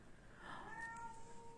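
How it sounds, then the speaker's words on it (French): A house cat meows once, a drawn-out, rising and falling call heard indoors. It is faint and sounds somewhat distant against low room noise, with no talking. "le chat qui chante."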